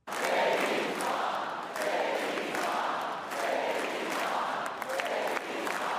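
Convention crowd at a political rally cheering and applauding as JD Vance's mother is introduced on stage, a loud, sustained roar with swelling waves of cheers and claps throughout.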